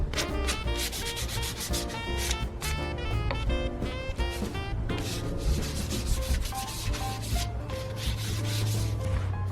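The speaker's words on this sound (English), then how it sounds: "I just sand these down, and it goes a lot quicker" Wooden sign pieces are ground smooth on a belt sander with a small disc sander, a loud continuous close abrasive rasp with a droning motor underneath, never letting up and with no voices.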